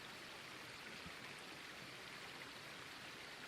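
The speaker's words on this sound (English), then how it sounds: "A narrow stream of water snakes through the dry landscape, tumbling over a bed of smooth and shiny stones." A narrow stream of water tumbles over smooth, shiny stones in a dry Grand Canyon landscape, making a steady, faint, even rushing and burbling wash with no voices.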